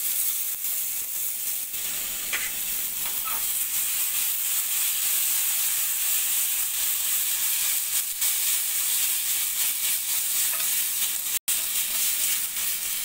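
Tandoor-style momos made with mixed pulses sizzle steadily in a hot pan, three at a time, with a continuous loud hiss of frying and a few faint clinks as they are tossed.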